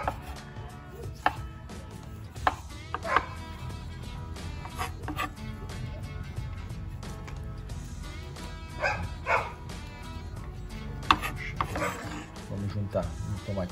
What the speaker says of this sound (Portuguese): A gente começa a picar o tomate.